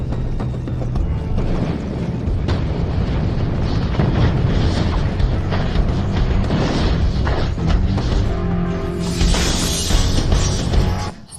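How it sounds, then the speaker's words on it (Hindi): A Fire Style Fireball Jutsu from Hindi-dubbed anime, in a battle between Itachi and Sasuke, erupts as a loud, sustained roaring blast that fills the whole stretch, swelling into a hissing burst near the end. "Fire style, fireball jutsu."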